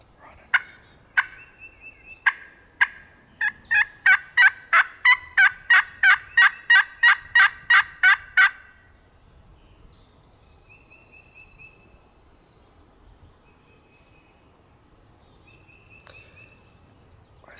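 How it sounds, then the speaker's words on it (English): Wild turkey gobbler gobbling on a ridge in West Virginia, a rapid run of loud, sharp, evenly spaced pulses that build and then stop abruptly, followed by quieter woodland background. "That joker gobbled at 70 yards on the other side of this hill."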